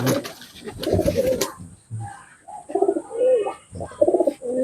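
Pigeons cooing in a loft, several soft rolling coos in close succession with short pauses between bursts, near and fairly loud, with no talk over them.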